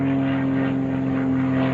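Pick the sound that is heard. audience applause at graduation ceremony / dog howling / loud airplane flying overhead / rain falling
loud airplane flying overhead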